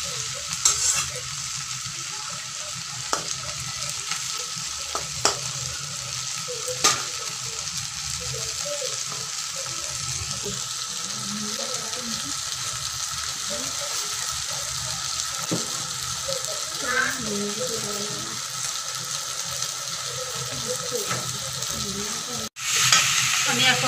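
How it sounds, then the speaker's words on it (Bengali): Fish and oil sizzling steadily in a pan while being gently stirred for machher tel jhaal, a continuous close fry with occasional soft spatula scrapes and taps, no talk. "এখন হালকা হালকা করে শুধু নাড়াচাড়া করবো"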